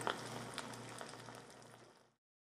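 Bologna and beans simmer in a pan with a soft, steady bubbling hiss. The sound stays faint and even, then cuts off after about two seconds.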